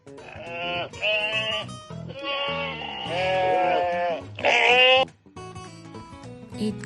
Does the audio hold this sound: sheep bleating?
yes